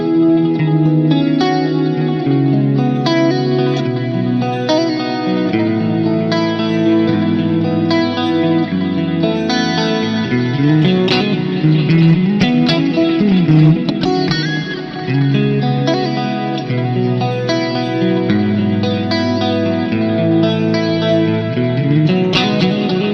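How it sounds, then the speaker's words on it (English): Clean electric guitar through a Fractal unit, with distinct delay repeats feeding a Large Cathedral reverb: sustained chords and melodic notes played continuously for over twenty seconds, washed in echoes and a long, spacious tail, with no voices. "this delay is a discernible repeat sound, and it's all feeding into a beautiful Large Cathedral reverb"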